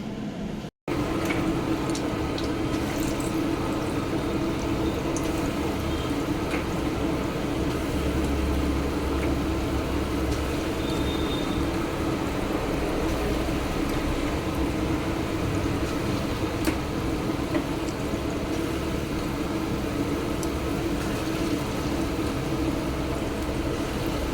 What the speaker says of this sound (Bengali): এই যে বড়াটা ভাজা হচ্ছে